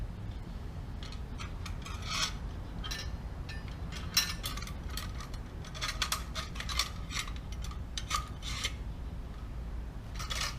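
Plastic and metal clicks and scrapes as the rip guide of a Beast tile saw is slotted into its two mounting slots, quiet, close and irregular, with no voices.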